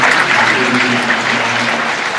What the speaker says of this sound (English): As an audience, I think you need to give these showmen a round of applause